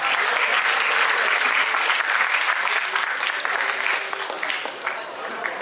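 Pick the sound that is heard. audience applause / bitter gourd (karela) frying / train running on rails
audience applause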